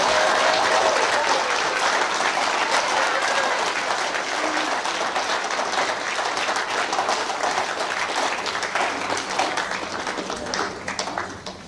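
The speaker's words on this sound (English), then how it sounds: "Please put your hands together in a massive round of applause" A school prizegiving crowd breaks into sustained applause, dense clapping filling the room and slowly thinning toward the end.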